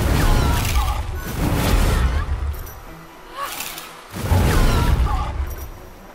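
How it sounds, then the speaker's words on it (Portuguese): Stone-based magic explosions in Mages of Mystralia, three loud rumbling blasts with crunching debris, separated by brief quieter gaps, with someone talking over them. "Agora a explosão é de pedra."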